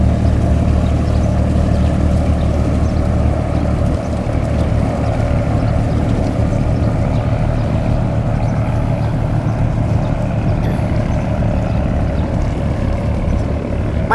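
A sand-carrying barge's diesel engine roars steadily on a river, loud and close, with a deep, unbroken drone and no voices over it.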